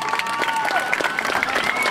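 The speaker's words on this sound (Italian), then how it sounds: "Adesso un bel applauso dalle Madonne!" Brief burst of audience applause at an outdoor comic performance, a couple of seconds of dense, lively clapping with faint whistles or tones over it.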